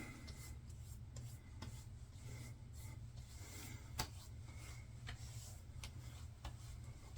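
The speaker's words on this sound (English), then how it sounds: "I'm going to rub that in." Soft rubbing of ointment by hand into freshly tattooed skin, a quiet, steady friction sound with faint ticks and no talking.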